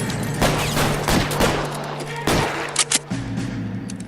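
Several heavy gunshots boom out in L.A. Noire, spaced irregularly over a few seconds, each a loud broadband blast with a short tail, under a low steady game hum and occasional talk.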